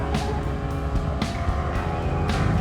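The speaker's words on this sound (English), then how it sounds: "So this guy here that's coming up, he's probably one of the faster cars here." Race car roaring past on an autocross course, a fast Honda Civic-type entry with a loud, sustained engine note and repeated broadband bursts as it shifts and accelerates close by, no talking.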